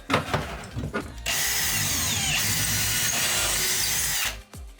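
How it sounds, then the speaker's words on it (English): A power drill bores a hole into the wall for a Perlesmith TV mount, a loud steady whirring burst of about three seconds, preceded by a few short clicks and handling knocks, with no talk. "drill a hole."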